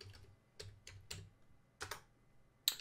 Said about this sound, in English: So I'm going to type NS lookup